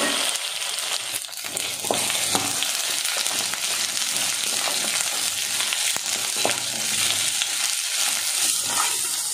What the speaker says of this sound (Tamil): இப்போ இந்த வெண்டைக்காவை இந்த எண்ணெயில போட்டு நல்லா வதக்கிடலாம்.